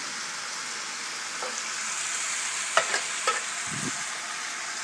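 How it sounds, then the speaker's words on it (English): Beef stew with bay leaves, thyme and vegetables is stirred in a pot, a faint low bubbling bed with a few soft spoon knocks and scrapes near the end. "Now we stir the bay leaves, the thyme, the beef, and the veggies"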